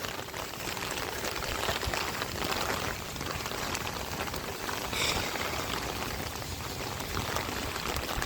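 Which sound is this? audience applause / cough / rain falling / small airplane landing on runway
rain falling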